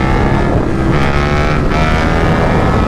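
A 2022 KTM 1290 Super Duke R motorcycle pulls hard in third gear, its loud, steady engine roar blended with heavy wind rush throughout.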